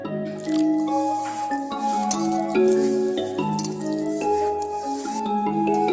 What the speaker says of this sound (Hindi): अब इसमें थोड़ा थोड़ा पानी डालकर इसको गूंद लें।